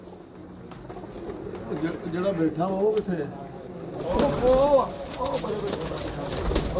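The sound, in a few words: pigeons cooing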